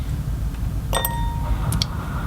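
A wine glass in a centre-of-mass balancing setup with a cocktail stick and two interlinked forks gives a couple of brief, bright glassy clinks over a steady low background hum.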